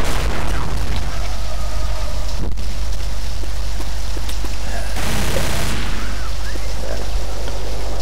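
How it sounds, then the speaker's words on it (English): Pipe bomb blasts in the zombie shooter Left 4 Dead, sewer level: a loud, saturated roar of booms and rumbling debris with a sharp burst near the middle and another heavy blast later, continuous and close. "Pipe bombs."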